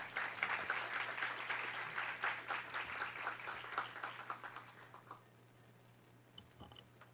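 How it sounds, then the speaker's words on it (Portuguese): Lecture audience applause on the history of elections in Amazonas, a dense round of clapping that gradually thins to scattered individual claps and fades out near the end, with a low steady hum beneath. "uma salva de palmas"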